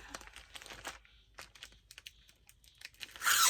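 Close, quiet crinkling and rustling of thin plastic, irregular scratchy bursts ending in a louder crackle as the bag is handled.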